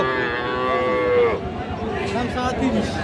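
Cattle moo at a busy livestock market where Friesian and crossbred bull calves are being sold. One long, loud, close moo fills the first half, then fades into the general crowd murmur and background clatter.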